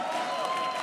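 A dense, sustained wash of arena crowd applause and cheering at an esports Mobile Legends match, continuous and full throughout the brief moment.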